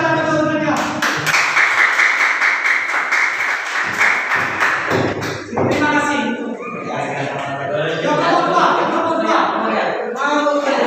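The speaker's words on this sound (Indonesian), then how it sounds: "Ya, tepuk tangan untuk semuanya." Classroom of students applauding together, loud bursts of rapid clapping that stop and start again, with a teacher's voice and some chuckles between the rounds.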